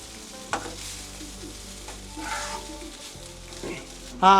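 Cooked rice being stirred into vegetables in a frying pan for sauce-free fried rice: a soft background sizzle with a few spatula scrapes and knocks, close and fairly quiet, with faint voices and a brief tonal clatter at the end.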